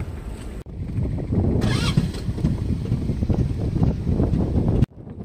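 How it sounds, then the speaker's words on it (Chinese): Wind gusts buffet a fishing boat anchored beside a small island at sea after dark, a loud steady rushing roar with brief cuts at the start and end. "这个风声听起来是挺大的。"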